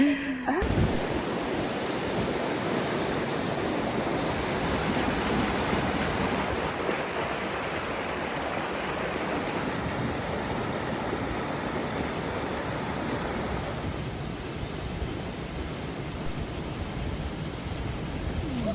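Continuous rushing water of a river tumbling over mossy boulders on Dartmoor, a broad steady roar that fills the scene, with no voices.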